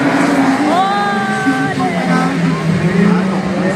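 A Clio Super 1600 rallycross car races at the French Rallycross Championship in Dreux, its engine whining and revving in rising and falling sweeps under a continuous French commentary voice.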